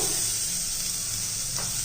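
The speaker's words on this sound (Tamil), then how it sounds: "ஒரு வெங்காயத்தை பொடிசாக நறுக்கியிருக்கேன். இதை இதில் போட்டுக்குருவோம்." Finely chopped onion fries in a hot pan with a steady, close sizzling hiss, briefly intensifying near the end as it is stirred.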